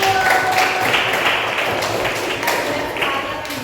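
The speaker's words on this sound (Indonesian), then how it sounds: "Tepuk tangan untuk Mas Agus." A crowd clapping steadily for a speaker at a teacher-training session at Universitas Sebelas Maret, a dense wash of many hands applauding together at moderate volume, with a few louder claps standing out.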